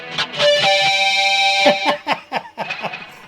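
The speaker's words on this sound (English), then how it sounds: "because this is a lot of gain and distortion, overdrive" A heavily distorted electric guitar, played through a BOSS eBAND JS-10 with high gain and overdrive, rings out with a sustained chord, then breaks into short, choppy distorted stabs.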